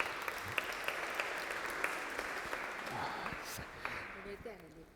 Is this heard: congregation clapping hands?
yes